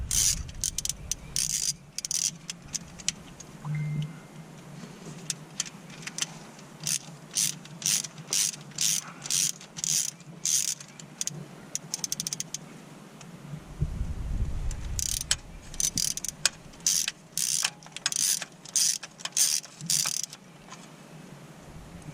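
A hand ratchet clicks in bursts of rapid, close, crisp ratcheting during a thermostat replacement on a 2003 Isuzu Rodeo, with pauses between strokes and a low thump in the middle.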